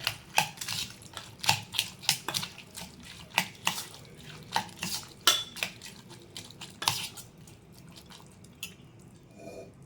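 Spoon clinking against a bowl while masala ingredients and pepper powder are mixed for masala puri, in a quick irregular series of close, sharp taps that fade near the end.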